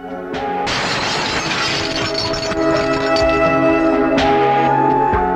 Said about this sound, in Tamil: கண்ணாடி நீதான் உடைச்ச